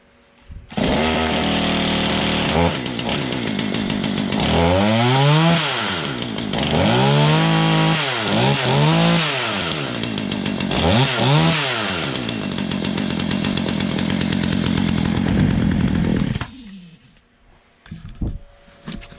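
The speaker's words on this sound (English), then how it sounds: "pull this saw over and see if she's idling and running any better" A repaired Poulan chainsaw starts and runs loudly up close, revved several times in rising and falling bursts between steady running, then cuts off near the end.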